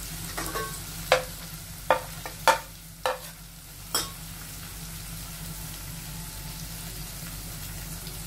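Onions sauté with chili and turmeric powder in a pan for a dry fish curry, a low steady sizzle under a few sharp spoon scrapes and knocks against the pan that then fade into quiet frying.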